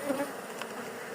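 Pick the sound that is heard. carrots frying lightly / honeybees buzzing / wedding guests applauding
honeybees buzzing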